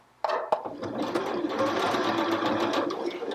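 A Janome HD5050 sewing machine starts up with a couple of sharp clicks and then stitches continuously with a close, steady mechanical whir.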